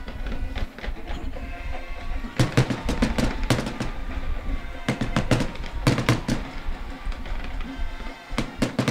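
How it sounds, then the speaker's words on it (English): Fireworks burst after a high school homecoming football game, a rapid crackling series of sharp bangs in clusters over a steady crowd murmur. "Nice to see those fireworks go off at the end of the game."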